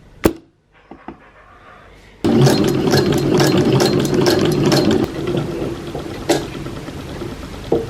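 A home sewing machine starts after a few quiet clicks and runs in a steady, close mechanical whirr with rapid needle ticks, easing to a lighter hum partway through before a final knock.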